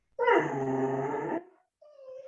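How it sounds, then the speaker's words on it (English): A dog gives one drawn-out growling whine, then a short high whimper after a brief gap, close and fairly quiet with nothing else around it. "I think there's a dog that wants to contribute too."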